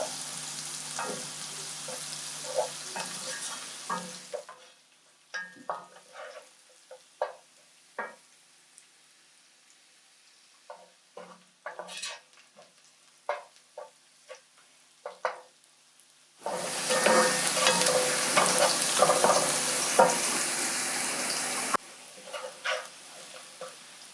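Kitunguu (onions) frying in a pan until golden brown, with a broad sizzle at the start and again later, separated by a quieter stretch of scattered clicks and utensil scrapes.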